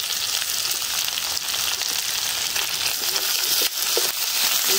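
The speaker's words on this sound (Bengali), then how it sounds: "রসুন কুচি, একবারে পেঁয়াজ পেঁয়াজ কুচি দিয়ে দিন সব" Chopped garlic and onion fry in a hot pan with a steady, dense sizzle and crackle throughout, close and fairly loud, with no talking.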